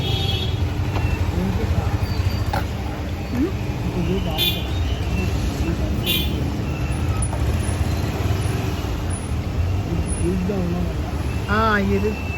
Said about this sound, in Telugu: ఇదిగోండి ట్రాఫిక్ ఇలా పెడుతుంది.